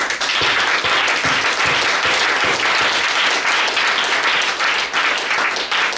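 A church congregation applauds for Jesus during a pastor's sermon: dense, sustained clapping from a full crowd, loud and steady for the whole stretch with no pause.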